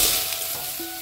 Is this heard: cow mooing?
no